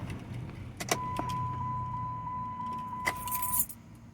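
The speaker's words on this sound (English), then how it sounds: "I'm gonna turn off my car." Keys jangle in a car's ignition as the engine is switched off in a parking lot, with a faint steady electronic chime running underneath and a few soft clicks and rattles, quiet and close.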